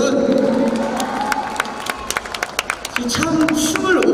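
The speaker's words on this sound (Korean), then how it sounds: "좀더 큰 박수 주세요 여러분." A large crowd at a dance competition final claps and cheers loudly, with scattered shouts over continuous applause, and a voice calls out through the noise.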